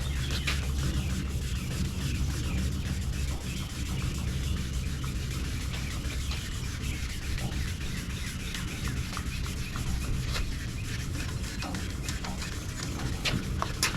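A demo panel is wet-sanded by hand with 2000 and 3000 grit paper, a steady close rubbing scrub that runs without break and stays fairly quiet.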